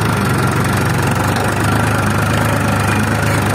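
A Powertrac Euro 439 tractor runs with an 11-tine cultivator attached, its diesel engine giving a steady, loud, close chugging drone with a knocking pulse throughout and no talking.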